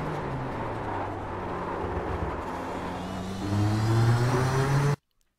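A Nissan GTP ZX-T prototype race car in the iRacing sim at Road America, its loud engine note droning and climbing in pitch under full throttle, swelling louder near the end before cutting off abruptly.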